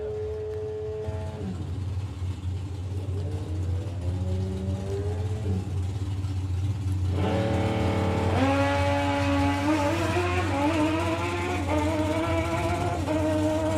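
A junior comp dragster with a motorcycle engine at an FIA drag racing event, its close, loud engine note climbing through rising revs and gear changes over a steady low rumble, with no talk.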